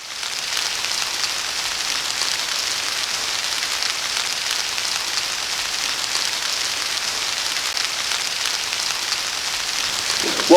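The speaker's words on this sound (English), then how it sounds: "it's starting to rain" Rain starting to fall outdoors, a steady hiss of drops pattering on surfaces that continues evenly for about ten seconds, fairly loud and close, with no voices.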